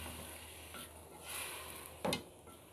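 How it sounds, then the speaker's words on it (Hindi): Chicken bhindi is stirred in a pan, a soft sizzle with a swell of scraping in the middle and one sharp utensil knock near the end, with no voices. "इसको हम मिक्स कर देंगे यहाँ पे सभी चीज़ों को आपस में अच्छी तरह से।"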